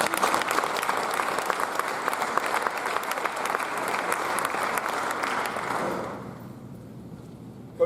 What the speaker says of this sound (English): give Coach Harlow a round of applause for him